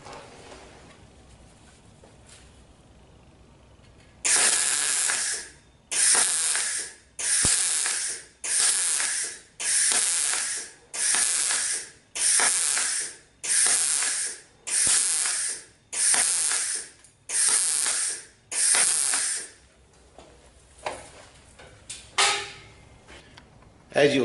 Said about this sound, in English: The weld is completed by finger pulsing.